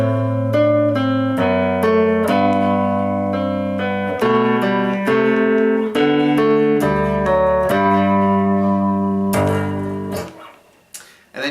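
Minuet in G phrase on guitar, a series of clear sustained notes stepping up and down in a steady minuet rhythm, played alone and close with a final note fading out.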